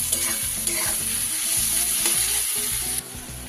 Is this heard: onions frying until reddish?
yes